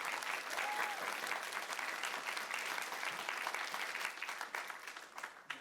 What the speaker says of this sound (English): Round of applause for Very Ladowska